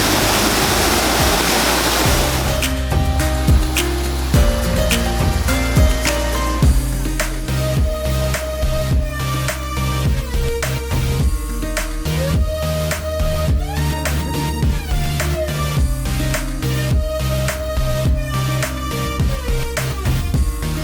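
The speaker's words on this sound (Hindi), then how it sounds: "This basically is a पानी चक्की, water mill." A village water mill grinding millet in Uttarakhand's Saryu Valley, with water falling onto the wheel. It makes a loud, continuous rushing roar close by, with steady rumbling beneath and no voices.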